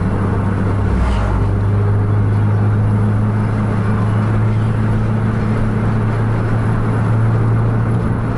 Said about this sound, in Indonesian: udah tancap gasnya tuh ke depan